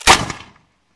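A flintlock musket volley goes off at a Fort Ticonderoga musketry demonstration as one sharp, loud blast that decays in under half a second, close and alone.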